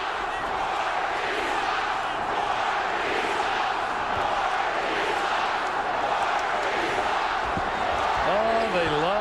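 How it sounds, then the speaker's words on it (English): A loud arena crowd at a 1998 NBA playoff game, Rockets at Jazz in Utah, roaring and booing steadily throughout with a dense wall of noise, a whistle-like tone rising near the end. "Listen to this crowd."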